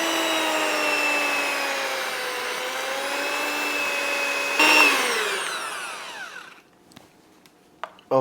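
Electric hand mixer beating room-temperature soft cream cheese for a keto cheesecake filling, a steady whirring motor drone that shifts pitch slightly, then winds down and stops, followed by a few faint knocks.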